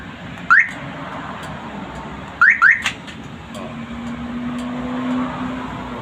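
A newly installed car alarm being tested chirps in short bursts: one chirp, then a quick double chirp a couple of seconds later, followed by a steady low tone under a constant background hum.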